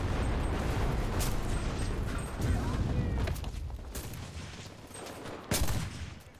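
Gunfire from a gun in the World War II shooter Enlisted, loud bursts of shots and booming impacts layered through a dense game battle soundscape, with a sharp blast near the end.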